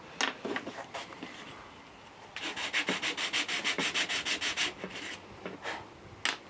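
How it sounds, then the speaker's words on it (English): A small hand sanding block scrubs the rough edge of a wooden piece, giving a run of quick, even back-and-forth strokes in the middle, with scattered lighter rubs before and after, close and moderately loud. "Okay, little sanding block."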